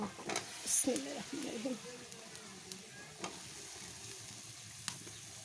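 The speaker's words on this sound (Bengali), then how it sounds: "এই যে আমি এখন আলুটা দিয়ে দেব।" Potatoes fry in a pan over a gas flame with a soft, steady sizzle. A voice talks briefly near the start, then light stirring taps follow, faint and close.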